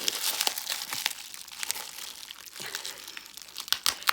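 Vintage china being unwrapped from paper and sellotape: close, continuous crinkling and crumpling with sharper tearing crackles and small crunches, loud and busy throughout with no talk.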